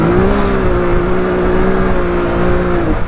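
A Can-Am X3 side-by-side's engine holds a steady, loud drone while riding, pitch rising slightly then holding before easing off near the end, with no talk over it.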